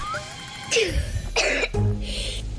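Several harsh, close cartoon coughs from someone with flu, in quick succession, loud and raspy, with brief pauses between them.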